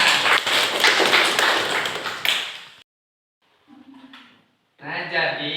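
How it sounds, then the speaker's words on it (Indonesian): Students clapping their hands in a school classroom, a burst of close, dense clapping that fades and cuts off, followed by quiet and then some voices speaking. "Tepuk tangan."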